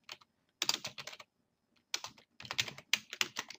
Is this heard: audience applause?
no